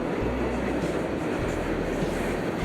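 A freight train rolls through a Utah trackside spot, a dense, loud, steady rumble of wheels and cars passing close, with no talk.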